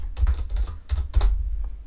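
Rapid bursts of keystrokes on a computer keyboard entering an AutoCAD command, clustered clicks in uneven groups, close and clear with no voices.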